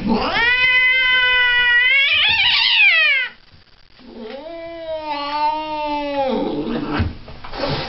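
A cat on a vet's examination table yowls and caterwauls in long, loud, wavering wails, with a brief pause before the howling resumes, close up.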